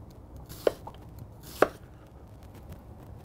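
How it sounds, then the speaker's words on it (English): A knife cuts peeled onions into julienne on a cutting board, with two sharp, distinct chops spaced about a second apart in a quiet kitchen. "Let's start out by slicing some onions."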